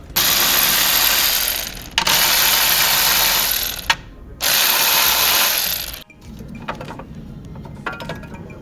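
A ratchet works the 13 mm bolt and nuts holding the fuel filter cage on a 2020 Nissan Qashqai diesel. Three long, loud, close bursts of rapid mechanical clatter come with short gaps between them, followed by quieter scattered clicking.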